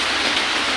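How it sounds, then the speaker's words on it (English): Heavy rain pouring down outside during a tropical storm in Boracay, a dense, steady hiss of drops on surfaces, loud and unbroken. "it's been non-stop raining here"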